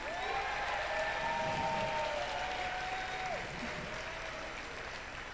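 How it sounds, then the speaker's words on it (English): A high school audience at a robotics event's opening ceremony claps in a sustained, even round of applause filling a large room, with a faint tonal whine running underneath. "Can we give a huge round of applause to Dow High School for hosting us?"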